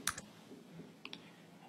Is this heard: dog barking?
no